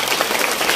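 Loud applause from an audience at a Varkari kirtan, honouring a young mridang player: a brief, dense burst of clapping.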